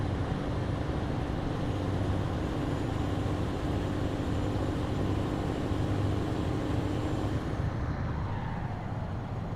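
Loud, continuous engine and exhaust roar from a Scania R730 V8 truck with a downpipe in a driving video game, a dense rumbling drone that holds steady before easing slightly near the end.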